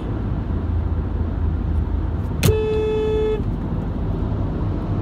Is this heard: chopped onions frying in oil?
no